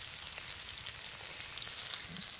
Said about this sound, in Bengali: কুচিয়ে রাখা পেঁয়াজ দিয়ে একটু ভেজে নেব পেঁয়াজটা।